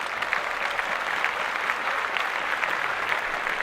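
Clapping breaks out on a podcast, a steady, moderately loud patter of hands from a few people nearby, continuous for several seconds with no speech over it.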